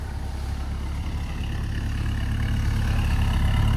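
A 1972 Ford Mustang Mach 1 with a 351 engine idling steadily after a cold start, its low, throaty exhaust note rumbling close by from the rear, with no talking.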